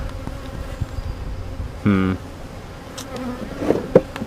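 Honey bees buzz faintly around an abandoned hive with wax moth damage, including one brief, louder buzz passing close by amid quiet handling noises.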